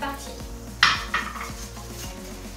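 Financier batter is stirred with egg whites in a bowl, with a steady scraping churn and a couple of sharp clinks of utensil against bowl, close up and without speech.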